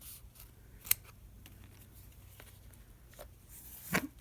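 Scissors trim a journal's book tie in a quiet room: two crisp, separate snips, one early and one near the end, with faint handling rustle between them.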